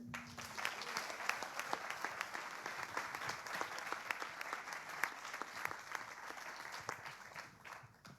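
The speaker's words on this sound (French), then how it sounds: "On l'applaudit." Sustained audience applause at an award ceremony, a steady wash of many hands clapping with occasional sharper claps standing out, fairly distant and even, continuing for the whole stretch before tapering slightly at the end.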